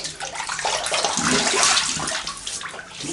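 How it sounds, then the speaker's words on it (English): Tap water runs hard and steady into a bathroom sink before a wet shave, a loud continuous splashing rush with no talking. "Some water in this sink."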